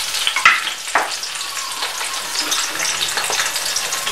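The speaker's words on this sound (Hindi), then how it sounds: "गोश्त को और हड्डियों को इसकी भूनना है।" Mutton meat and bones for nalli biryani fry loudly in a pot, with a dense, steady crackling sizzle and a few sharp stirring clinks near the start.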